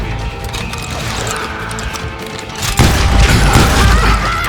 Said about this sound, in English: I was just glad I had Deputy Bob's mean-ass shotgun.